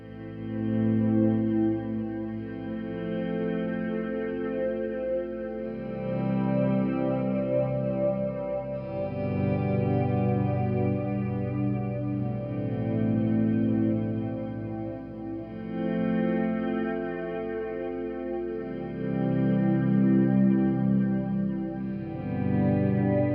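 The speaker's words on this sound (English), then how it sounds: "So you're getting that nice big delay and reverb wash" An electric guitar chord swells in softly without attack, bathed in a big delay and reverb wash that sustains and repeats in slow overlapping waves.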